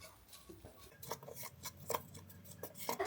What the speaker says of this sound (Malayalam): മൈദ ഇട്ട് നന്നായിട്ടൊന്ന് ഇളക്കിയെടുക്കാം